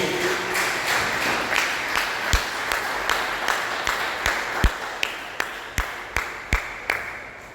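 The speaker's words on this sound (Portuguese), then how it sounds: "dê uma salva de palmas bem alegre para Jesus" A church congregation claps together in a brief burst of applause, with sharp, irregular claps that grow more distinct toward the end, heard alone with no talking.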